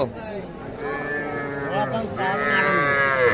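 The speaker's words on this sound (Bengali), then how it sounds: "এই পাশে কিন্তু সবগুলো ছোটো ছোটো ষাঁড় বাচ্চা" A young bull calf at a cattle market moos loudly in two long, drawn-out calls close by, with other market voices around it.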